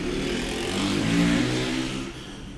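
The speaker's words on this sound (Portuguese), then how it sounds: "E passou uma moto, desculpa, vai ter barulhos." A motorcycle passes along a nearby street. Its engine drone swells and then fades over a couple of seconds at moderate loudness, with no voices.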